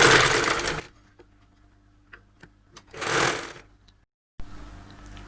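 A sewing machine stitches saree blouse fabric in two short, loud bursts, the first under a second and the second about a second long, separated by quiet handling clicks and light taps.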